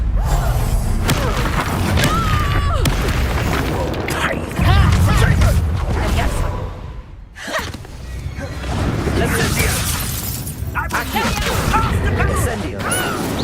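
Confringo blasting spells go off in Hogwarts Legacy as a run of loud booms, crashes and cracking impacts mixed with clattering debris and creaks, while voices call out over the combat.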